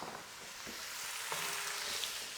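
Leeks, onions, garlic and carrots are stirred in a pot, a soft steady sizzle with a few light scraping stirs over a short stretch, close and fairly quiet.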